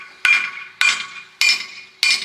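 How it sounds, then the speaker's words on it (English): Four sharp, ringing metallic hammer blows knocking old wheel studs out of a Unimog hub, evenly spaced about half a second apart, close and loud, each with a brief bright ring. "knock out your old wheel studs"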